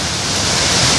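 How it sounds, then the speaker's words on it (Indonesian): Karawawi waterfall in Nusaulan, a dense, steady rushing roar of falling water, loud and close, with no other sounds. "panoramanya ini air terjun yang sangat terkenal"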